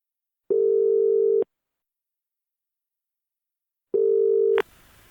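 Two steady telephone tones, each about a second long and separated by a few seconds of silence, come from a handset being put down to call back; the second tone cuts off abruptly into a click and faint line hiss.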